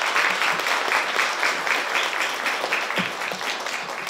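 An audience claps steadily for a child at a West Virginia governor's event, a dense, even applause lasting the whole stretch at a fairly close, loud level with no voices over it.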